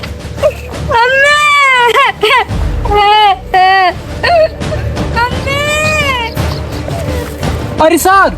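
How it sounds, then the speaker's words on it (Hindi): A small child cries in loud, wailing bursts with rising and falling pitch, several long sobbing cries separated by short breaths, close and dominant in an army rescue scene. "अरे सर, ये तो लग रहा है छोटा बच्चा रो रहा है।"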